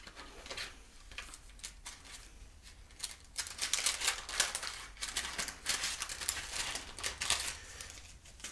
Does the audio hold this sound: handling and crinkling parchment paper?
yes